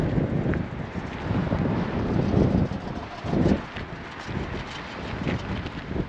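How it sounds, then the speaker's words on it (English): Strong wind blows outdoors, buffeting the microphone with a rough, gusting low roar that rises and falls in surges, with no one talking. "the wind's super crazy out here once again"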